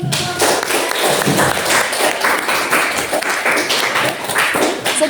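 Applause from an audience at a school classroom presentation on Islamic duties toward the deceased: dense, steady clapping filling the whole stretch, loud and close, with a few sharper taps standing out.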